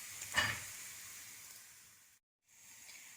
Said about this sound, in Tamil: மீடியம் ஃப்ளேமில் வச்சு திருப்பி திருப்பி போட்டு வந்து நம்ம எடுத்துடலாம்